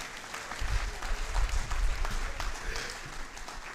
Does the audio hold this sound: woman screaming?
no